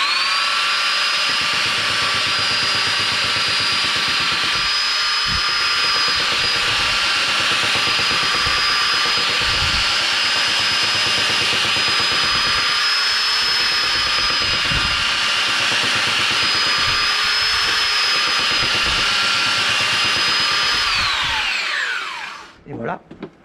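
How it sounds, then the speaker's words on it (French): A power planer runs on wood with a loud, steady high whine for over twenty seconds, with faint periodic thumps of the passes beneath, before it winds down and stops. "Allez, un petit coup de rabotage."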